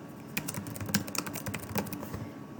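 Clicks from a computer mouse and keyboard at a desk, several quick taps in an uneven burst, close and fairly clear, with no voices.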